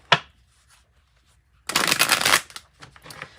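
Tarot cards shuffled by hand, a sharp tap at the start, then after a quiet pause a dense burst of riffling lasting under a second, followed by a few faint scrapes.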